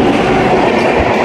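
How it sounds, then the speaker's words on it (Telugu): Prasanti Express, the Bhubaneswar–KSR Bengaluru train, rushes past near Simhachalam North station with a loud, steady roar and rattling wheels, filling the whole short moment without any voices. "ప్రశాంతి ఎక్స్ప్రెస్ అండి అది."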